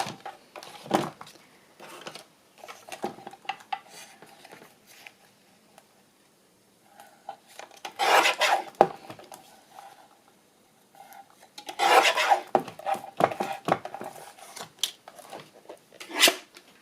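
Paper is trimmed for a handmade ephemera booklet, with soft scraping and rubbing cuts in short bursts separated by near-silent pauses, close and quiet, without speech.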